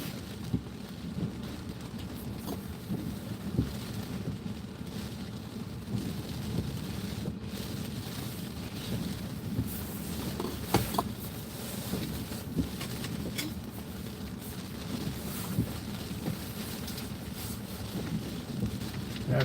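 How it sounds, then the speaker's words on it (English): Gusty stormy wind roars steadily along the ocean shore at a breakwater, a continuous dense rush of noise with scattered buffeting thumps against the microphone and no talking. "It's getting stormy out here."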